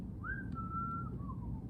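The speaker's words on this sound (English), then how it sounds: "I even venture a whistle. Nothing fancy, just a tune of mine." A lone person whistles a short, simple tune, a thin clear melody of a few gliding notes heard faintly over a quiet background.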